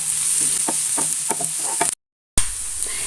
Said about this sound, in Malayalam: അത് നല്ലോണം ഒന്ന് വഴറ്റിയെടുക്കാം